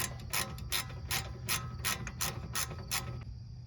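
A ratchet wrench clicks in quick bursts of ratcheting strokes while loosening a bolt on the rear hub of a 2003-07 Honda Accord, close and fairly quiet, with a low background hum.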